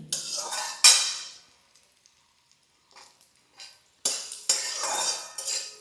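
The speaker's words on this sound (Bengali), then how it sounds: "কিশমিশটাকেও আমি একটু ভেজে নিলাম।" Raisins fry in hot oil in a pan while a tamarind and sweet potato chutney is made, with bursts of sizzling and spoon-stirring scrapes separated by a near-silent pause and no talking.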